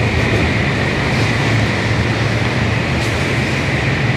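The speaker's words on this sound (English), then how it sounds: "Here comes another bullet train." A Japanese bullet train passes close by with a loud, steady rushing roar and a high whine, sustained throughout with no voices.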